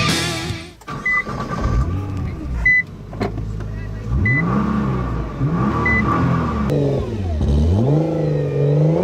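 A 2015 Nissan GT-R Nismo, heard from inside the car, accelerates in traffic. The engine note swells and rises in pitch over several seconds, loud and continuous, with a few short electronic chimes along the way.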